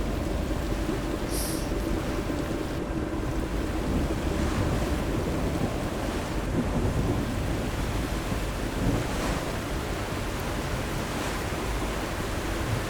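A boat engine running at full throttle in the video game The Last Caretaker, heard as a loud, steady, unbroken roar with a rushing, wash-like texture that holds at a constant level throughout.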